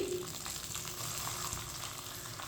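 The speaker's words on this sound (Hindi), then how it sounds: "सेवइयों को ऑयल में मैंने मिक्स कर लिया है।" Vermicelli frying in oil in a pan for sweet seviyan, giving a steady, soft, continuous sizzle and crackle with no talking.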